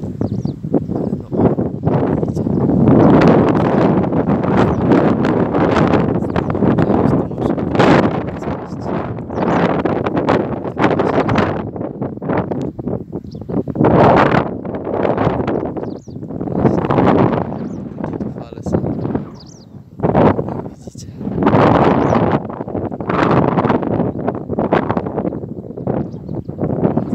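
Strong wind buffets the microphone beside a small lake in the countryside, a loud continuous roar with gusting surges throughout and no clear pauses.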